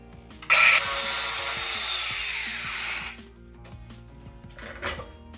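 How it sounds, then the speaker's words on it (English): A Harbor Freight compound miter saw cuts through a metal bolt in one loud, harsh grinding whine of about two and a half seconds that fades as the blade spins down, followed by faint clatter. "Obviously cut this bolt off."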